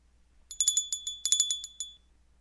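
A small bell rings in a quick run of about a dozen clear, bright strikes, bunched in two groups, close and alone against near silence in a Shakespeare Macbeth monologue recording.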